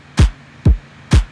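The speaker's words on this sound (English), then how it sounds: "there's a very small clap on the actual drum rack here" Three short, punchy electronic clap samples from a drum rack, spaced evenly about half a second apart, each a quick burst with a low thump underneath.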